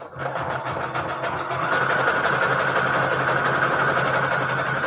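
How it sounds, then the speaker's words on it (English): A sewing machine runs a regular zigzag stitch on default settings on hexagon patchwork for a junk journal, giving a steady, close, continuous mechanical hum throughout. "I'm on stitch, just a regular zigzag stitch for me here"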